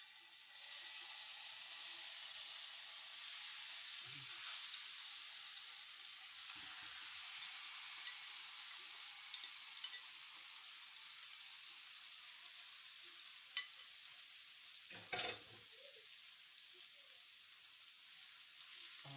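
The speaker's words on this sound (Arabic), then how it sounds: "دلوقتي هنحط بقى الشاورما بعد ما حطينا هنا زيت" Beef shawarma pieces fry in hot oil in a pan, giving a steady, moderate sizzle throughout with a few brief clatters of handling near the end.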